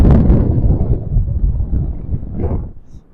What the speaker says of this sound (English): That wind's an absolute bugger.